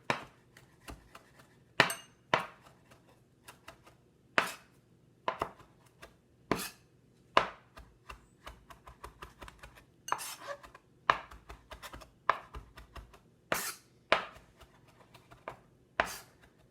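A knife chops fresh cilantro on a cutting board, giving close, sharp, irregular thuds and clicks spaced roughly a second apart, with quiet pauses between the strikes.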